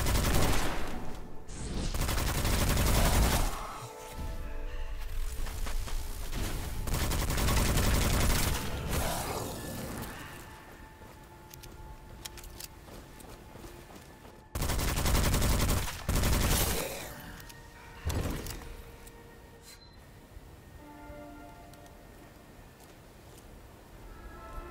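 Gunshots in the Witchfire first-person shooter, loud bursts of rapid fire and single heavy shots in several clusters, with quieter gaps between volleys.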